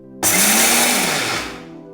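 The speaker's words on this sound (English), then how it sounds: "Here our roasted methi seeds have cooled down, so we'll grind it into a fine powder." Roasted fenugreek (methi) seeds whirring in a blender, a loud steady grind that starts abruptly, holds, then winds down and fades, with no talk over it.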